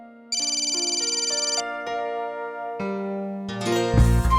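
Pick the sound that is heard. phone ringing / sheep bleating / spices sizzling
phone ringing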